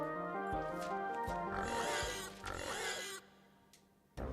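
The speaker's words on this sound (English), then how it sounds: "I always wonder how the minions make that pig grunting sound" Pig-like grunting from minions in the cooking game Beastro, several loud snorting oinks in quick succession with a rich, harmonic tone, a brief pause, then a final grunt at the end.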